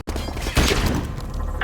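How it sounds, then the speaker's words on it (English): A flashbang grenade detonating in a tactical shooter game, a sharp sudden bang followed by a brief ringing, crackling tail, loud and close. "Flashbang out."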